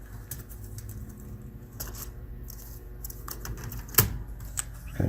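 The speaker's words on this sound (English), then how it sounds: "Now we're going to reattach our keyboard here." Plastic clicks and taps as a keyboard is pressed back into place on an HP 15 laptop, a steady run of light snaps with a sharper click near the end, close and fairly quiet.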